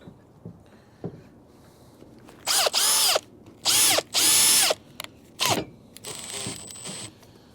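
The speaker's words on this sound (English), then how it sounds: "take my drill and I'm gonna attach it to the end of my assembly here" A power drill turning a cargo trailer's jack screw whirs in several short bursts with pauses between, close and loud, after a few faint clicks and knocks.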